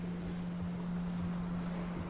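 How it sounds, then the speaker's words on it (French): Steady, even wind blows by the sea on the Brittany coast. It makes a continuous low rumble of wind noise on the microphone with a faint drone underneath and no voices. "Il y a un vent très régulier."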